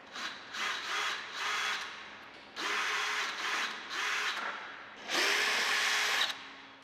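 A power drill fitted with a 3/8-inch nut setter spins out fasteners from roll-up door bottom-rail hardware, giving several bursts of loud whirring separated by short pauses, close and without speech.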